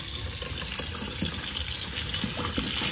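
Cold tap water running steadily into a sink while raw chicken is washed, a close, continuous splashing stream with small irregular spatters.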